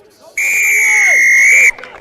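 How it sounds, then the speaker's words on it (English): A referee's whistle at a college rugby match between Queens and St. Bonaventure gives one loud, sustained shrill blast of over a second, with faint commentary and crowd murmur underneath. "Another whistle here, penalty."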